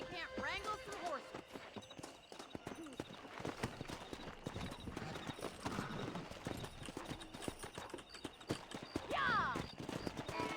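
Horse hooves clip-clop steadily through the Western video game Red Dead Redemption, a continuous rhythmic trot with occasional other game sounds layered on top.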